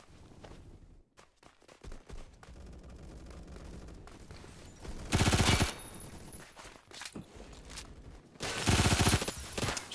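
Hip-fired gunshots in Phantom Forces, rapid automatic bursts in two loud close strings separated by quieter game noise and scattered distant shots.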